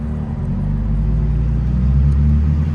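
A BMW Z4 is driven along back roads with a steady, loud low engine rumble and road drone heard from inside the car, holding an even pitch without clear revving changes.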